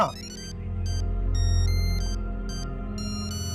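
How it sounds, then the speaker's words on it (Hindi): A phone ringtone plays a repeating electronic melody, loud and close, with no talking. "ओ, किसका फोन आ गया?"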